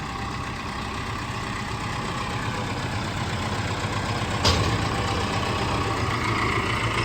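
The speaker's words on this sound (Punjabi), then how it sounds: "ਲਓ ਜੀ ਮਨਾ ਟਰੈਕਟਰ ਲੈ ਕੇ ਆ ਗਿਆ" A heavy tractor engine idles steadily and close by, a constant low rumble with one brief clunk partway through.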